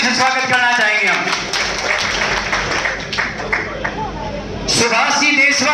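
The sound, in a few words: crowd clapping to welcome a guest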